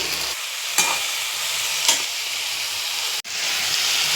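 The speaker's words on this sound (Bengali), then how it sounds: "এবার লঙ্কা আর আদাটা যে বেটেছি সেটা আমি দিয়ে দিলাম" Ground green chilli and ginger paste fries in a hot pan for a tindora curry. A loud, steady sizzle and hiss runs throughout, broken by a few scraping stir strokes and one brief drop out.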